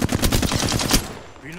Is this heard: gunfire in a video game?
yes